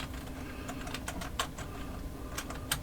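Someone typing a website address on a computer keyboard, a quiet, irregular run of close key clicks with brief pauses and a couple of sharper taps.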